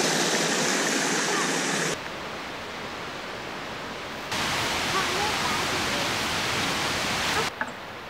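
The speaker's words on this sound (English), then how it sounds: "That's the way the water's running. It's coming down the hill and off it goes." Stream water rushing down a hillside on a family hike near waterfalls, a steady loud broadband wash that shifts level abruptly a few times as the listening position changes, with no talk over it.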